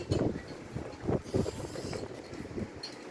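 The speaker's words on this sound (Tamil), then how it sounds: "ஆனால் சரியான காற்று அடிக்குது" Strong wind gusting outdoors in a garden in Switzerland, buffeting the microphone in uneven rushing bursts throughout, close and fairly loud, with no voices.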